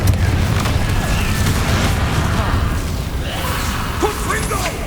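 A Confringo fire spell explosion from Hogwarts Legacy, heavy low booming blasts with whooshing and crashing debris, loud and sustained over about five seconds.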